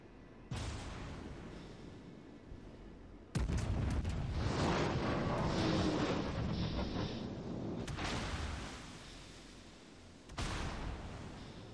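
Battleship guns firing in World of Warships Legends, an Iowa-class grind: four heavy, booming salvos, loud and close, each followed by a long rolling rumble that fills the gaps between shots.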